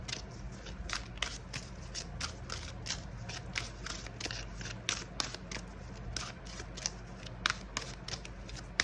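Tarot cards are drawn and shuffled in a soft, quick series of papery rubs and flicks, close and fairly quiet, repeating in an irregular rhythm over a faint low background hum.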